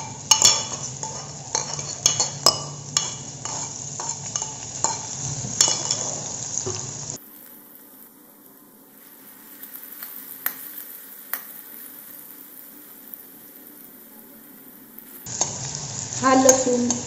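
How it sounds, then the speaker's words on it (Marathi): Crushed garlic sizzles in hot oil with a spoon stirring and clinking against the pan, loud and close at first, then a quieter steady fry in the middle before the stirring and scraping return. "तेल गरम झालं की त्यामध्ये लगेचच ठेचलेला लसूण टाकायचा"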